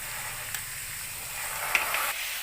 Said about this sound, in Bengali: আমি কাঁকড়ার তেলটাও ভেজে নিয়েছি একসঙ্গে সবগুলো দিয়ে